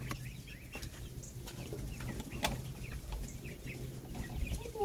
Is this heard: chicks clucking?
yes